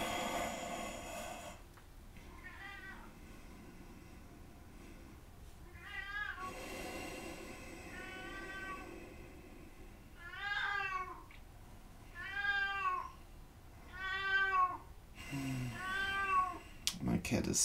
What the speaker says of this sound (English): My cat is saying hello again.